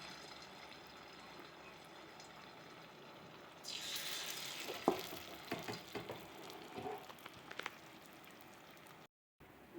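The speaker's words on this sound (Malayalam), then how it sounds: "ഇനി നമുക്കത് ഓരോന്ന് മുക്കി ഇട്ട് കൊടുക്കാം" Battered cauliflower pieces dropped into hot oil for chilli gobi, a quiet start followed by a sudden burst of bubbling sizzle and crackling pops that keep going near the pan.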